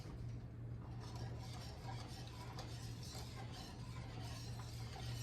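Continuous scraping and soft sizzle of a utensil stirring thickening flour gravy in a skillet, steady and close but quiet, with no talk.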